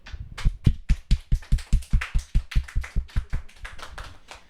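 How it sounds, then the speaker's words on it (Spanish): Applause rises from a small audience at a faith-themed talk program, a steady run of fairly distinct claps that thins and fades toward the end, heard close without any talking. "la despedimos con un fuerte aplauso"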